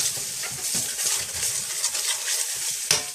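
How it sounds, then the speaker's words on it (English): Madras curry sauce in a pan, with a pinch of dried methi leaf and spices being stirred in, gives a steady close hiss and sizzle with light scraping, ending in a brief sharper clink near the end. "pinch of methi leaf. Okay, let's give that a wee quick stir round"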